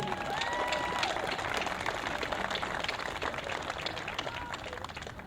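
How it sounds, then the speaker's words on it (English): Graduates at a high school graduation ceremony applaud, giving a moderate, sustained round of clapping from a crowd, heard at some distance with light cheering mixed in. "So graduates, how about a round of applause for your family?"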